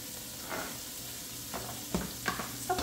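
Onion sizzles and fries in a pan, a soft continuous crackle with a few louder spits and stirring scrapes near the end, fairly quiet and close.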